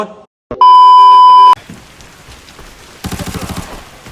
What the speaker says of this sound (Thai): มีเสียงปืนนะ